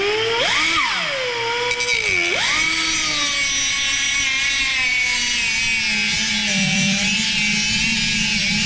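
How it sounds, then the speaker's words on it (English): A die grinder cuts an oil groove into an engine rod bearing during a 1920 Nash 687 rebuild, a loud continuous high-pitched whine that rises and dips in pitch as the motor loads and frees up, with no talk. "the best way to cut the groove is with a die grinder"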